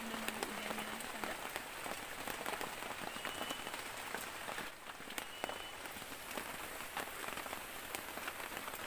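Heavy rain pours on a forest campsite at dusk where a treehouse is being built, a dense, steady hiss of drops striking leaves and surfaces with no gaps, and scattered sharper drips popping through the wash.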